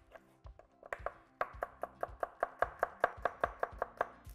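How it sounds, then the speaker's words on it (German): Carrots thinly sliced with a knife on a board, a steady run of about twenty crisp chops that speed up into an even, close rhythm with no talking. "Für die Topping ganz fein Scheiben schneiden."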